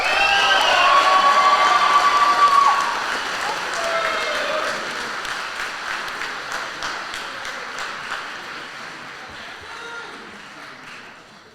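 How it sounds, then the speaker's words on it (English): Audience applause and cheering fill a high school senior awards ceremony, loud at first with shouting voices mixed in, then easing to steadier, softer clapping that gradually fades over about ten seconds. "Please give them an applause."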